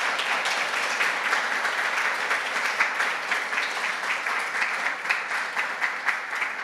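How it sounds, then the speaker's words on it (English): A conference audience at a programming languages event applauds in a sustained, steady round of clapping filling the room, fairly even throughout. "just a round of applause for Naringa for organizing all the logistics"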